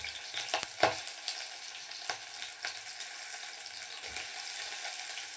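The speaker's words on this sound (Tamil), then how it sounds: "நெக்ஸ்ட்டு நம்ம நறுக்கி வச்சுருந்த பெரிய வெங்காயத்தை சேர்த்துக்கலாம்" Large onions sizzle steadily as they fry in a pan for a capsicum and egg stir-fry, with a few clinks of a spoon stirring them. No one speaks.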